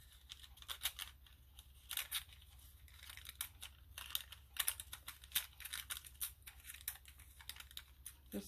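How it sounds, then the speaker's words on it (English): Paper being torn by hand to rough up the pre-cut edges of junk journal ephemera, heard as a run of short, crisp rips and crinkles scattered irregularly over several seconds, close and fairly quiet, with no talking. "Let's rip this some."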